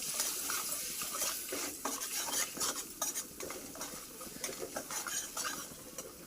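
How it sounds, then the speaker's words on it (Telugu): Ginger garlic paste and turmeric stirred in a pan for mango pulihora, continuous close scraping and clinking of a spoon against metal over a light sizzle, no voices. "అల్లం ఎల్లిగడ్డ పేస్ట్ 1 స్పూన్, 1 చెంచా పసుపు వేసి మిక్స్ చేసుకోవాలి"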